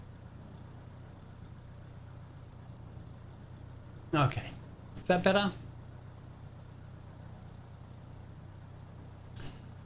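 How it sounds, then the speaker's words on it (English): A steady low engine drone from a general aviation aircraft in Microsoft Flight Simulator 2020 hums quietly throughout, with someone briefly speaking over it partway through. "so you get the sim engine sounds"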